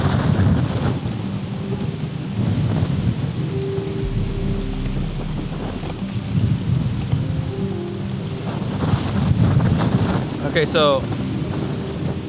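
Rain and thunder roll in from a distance over open water where a kayak sits, with steady wind noise and low rumbling throughout, and a person speaks briefly near the start.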